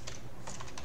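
Quiet, irregular keystrokes tap on a computer keyboard as code is typed, several soft clicks in quick succession with no voice.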